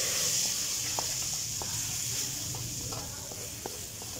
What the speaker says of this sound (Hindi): अपने इस गर्म से तड़के को दाल में डालते हैं।